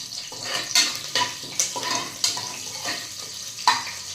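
Green chillies and curry leaves fry in oil in a pan while a spoon stirs them, soft sizzling under irregular scraping strokes, close and moderately quiet, with no talk.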